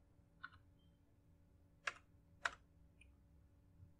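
A few scattered keystrokes on a computer keyboard while entering plot labels in MATLAB, three or four quiet separate clicks with long pauses between them in a hushed room.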